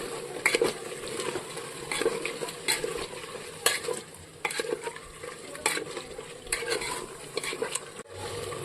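Chicken donne pulao masala is stirred in a hot pan, repeated scraping strokes and clinks over a continuous frying sizzle, close by with an irregular rhythm.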